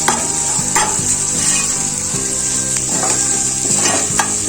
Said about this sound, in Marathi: जिरे पावडर, थोडासा गरम मसाला हे ऍड केले आणि हे परत एकत्र करायचं